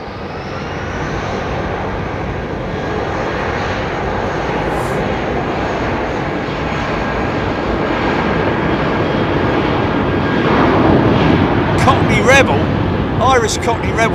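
A Boeing 757 jet with Rolls-Royce RB211 engines at London Heathrow Airport gives a steady, broad engine roar that swells slightly toward the end, with faint higher chirps near the close.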